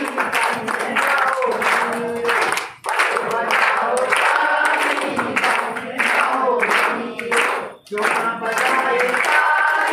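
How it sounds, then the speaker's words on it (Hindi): A group of children clap rhythmically during a school health training activity, their claps mixed with loud chanting voices in a bouncy, repeated pattern. "बच्चों बजाओ ताली"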